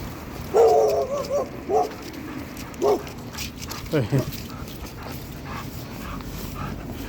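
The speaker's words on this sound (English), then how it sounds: "the dog barked, but it was a bark like, hey, it wasn't an aggressive bark" A dog gives a few short, mild barks and yips at a distance, spread over several seconds against outdoor background noise.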